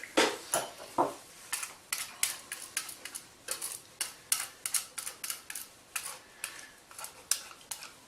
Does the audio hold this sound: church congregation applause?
no